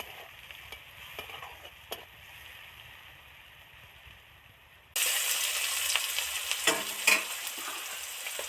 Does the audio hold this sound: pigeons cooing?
no